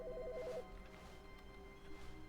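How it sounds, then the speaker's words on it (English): A telephone rings inside The Stanley Parable, a short repeating electronic trill that sounds near and clear at first, then drops away, leaving a steady low room hum behind it. "Wait, that's a phone."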